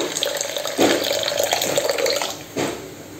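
Water pours from a tap into a pan of fish curry cooked with curry leaves, a steady splashing stream with a couple of louder gushes, heard alone.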